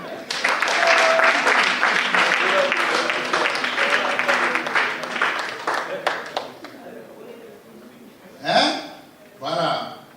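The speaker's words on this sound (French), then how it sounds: "Acclamez-la." Church congregation at a Sunday service applauds in a dense, steady burst that fades out after several seconds, followed by short vocal sounds.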